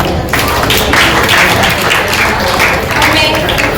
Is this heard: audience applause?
yes